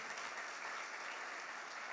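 A church congregation applauds, a dense and even wash of clapping from many hands that sounds somewhat distant and fills the whole brief moment without voices.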